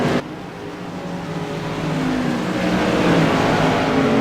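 CRA Tour Modified race cars roar around Five Flags Speedway, a dense, loud pack of engines droning steadily and building slightly in intensity, with no voices over it.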